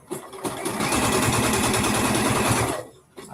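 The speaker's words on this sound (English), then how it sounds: "I like sewing knits though." A sewing machine stitches knit fabric in a fast, steady mechanical whir lasting almost three seconds, close and fairly loud, starting and stopping abruptly.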